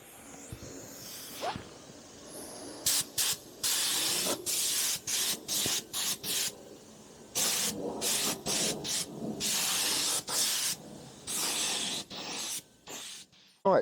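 Repeated bursts of spray paint hitting the fork legs of an NSU Quickly 23 moped, short hissing blasts of one to two seconds each with brief pauses between them, close and steady, with no talk.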